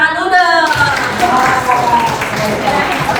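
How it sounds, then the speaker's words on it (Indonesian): High school students in a classroom applaud after a group presentation: a voice speaks briefly, then loud, dense clapping carries on steadily to the end. "Tepuk tangan dulu dong."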